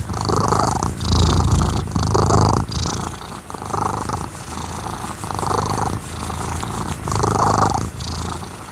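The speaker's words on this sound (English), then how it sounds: "I think I got her purring again now" A pet cat purring steadily while having its chin scratched, loud and close, with a continuous rhythmic rumble that swells and eases with each breath, and no voices.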